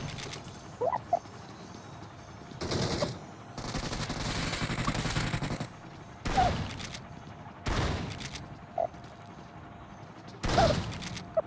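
Bursts of rapid gunfire in PUBG Mobile come in several separate volleys, some brief and some sustained, with quieter mechanical clicks and creaks between them.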